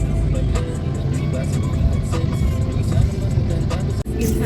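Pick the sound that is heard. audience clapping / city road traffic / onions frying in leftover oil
city road traffic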